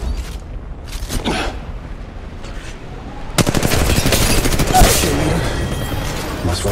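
Rapid automatic gunfire from Apex Legends Mobile, with scattered shots at first, then a dense sustained burst of loud rattling fire from about the midpoint, plus booms and mechanical clatter.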